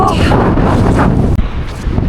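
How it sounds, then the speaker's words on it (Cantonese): Strong wind on an Icelandic road trip stop near a waterfall buffets the microphone in a loud, continuous roar, with a brief dropout partway through. "好似超大風啊！"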